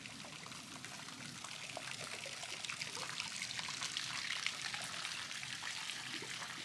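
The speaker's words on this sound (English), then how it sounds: "And that is the river." Steady, continuous rush of a river flowing, a broad watery hiss with faint trickling detail, moderately distant and unbroken throughout.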